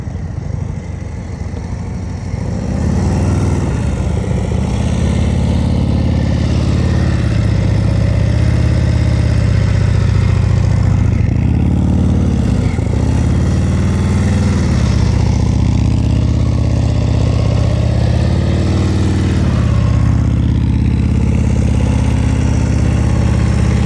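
Motorcycle engine during slow-speed riding practice, a steady loud idle-like drone rising and falling gently with throttle blips over about twenty seconds, close and continuous.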